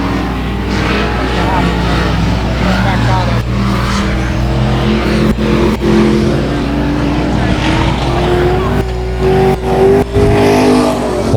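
Race cars circling a speedway track, a loud continuous roar of engines droning and shifting pitch as they pass, with an announcer talking over it throughout.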